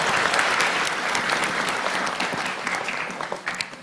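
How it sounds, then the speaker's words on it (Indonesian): An audience breaks into dense, sustained applause for immigration staff at an evening gathering with Gus Iqdam, a steady wash of many hands that thins slightly toward the end. "sekali lagi tepuk tangan untuk semua teman-teman imigrasi"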